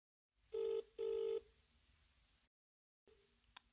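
Two loud, even rings of a telephone sound close by, followed by a click as the call is picked up and a brief pause before the line opens.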